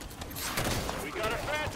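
Rapid gunfire rains down on the player in a Halo 5: Guardians firefight on Legendary difficulty, a dense continuous barrage of shots and explosions that runs through the whole moment.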